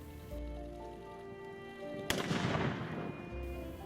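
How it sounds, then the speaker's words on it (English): A single sharp, loud matchlock gunshot fired by samurai gunners at Matsumoto Castle booms out at a distance and rolls away in a long echo over steady outdoor background noise. "4 samurai gunners are demonstrating defensive shooting techniques"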